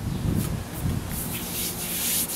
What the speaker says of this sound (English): This gonna be my final sand but once I shoot my other prime on it, I'm a wet sand it.